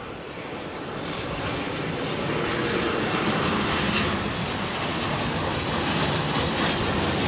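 An airliner thunders down the runway on takeoff at London Heathrow, a broad, steady jet roar that swells over the first seconds and then holds loud and continuous.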